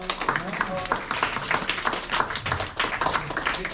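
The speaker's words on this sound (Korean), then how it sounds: "이정호 선생님께 다시 한번 큰 박수를 부탁드립니다" Audience at a school environmental concert with high-school students clapping in a dense, steady patter of applause for several seconds, mixed with crowd noise and a voice underneath.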